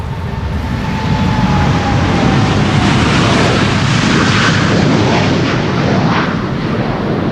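A KLM aircraft on flight 871 to Delhi at Amsterdam Schiphol, runway 18R/36L, its jet engines producing a loud, sustained roar that rises and holds steady, broad and rumbling for the whole stretch.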